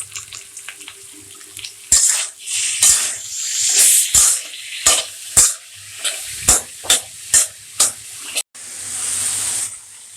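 Capsicum, tomato and green chili are stir-fried for chowmein in a hot pan, giving loud bursts of sizzling with a series of sharp spatula scrapes and clanks in an uneven rhythm, close by.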